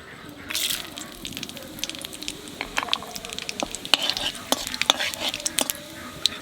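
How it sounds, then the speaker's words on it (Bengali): Cumin seeds and bay leaves hit hot oil with a lively crackling sizzle, sharp pops and spits scattered irregularly over a steady hiss, heard up close. "তেলের উপর দিয়ে দেবো জিরে আর তেজপাতা,"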